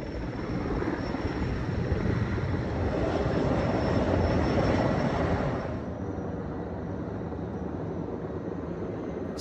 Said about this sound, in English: Sky cranes and other heavy helicopters doused spot fires half a mile ahead of the main fire